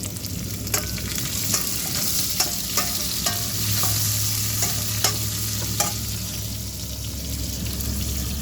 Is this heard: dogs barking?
no